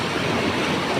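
Fast-flowing flood water surging past the Goregaon–Ambavade bridge, a loud, steady broadband rush with no break, close and continuous with no voices.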